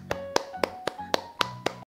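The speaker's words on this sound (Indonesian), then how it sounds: "Mari kita beri tepuk tangan" Seven sharp, evenly spaced hand claps ring out alone at a quick steady rhythm in a short burst of applause, then stop abruptly.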